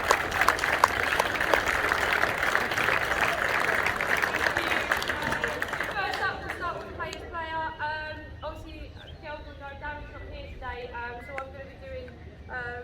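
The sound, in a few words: applause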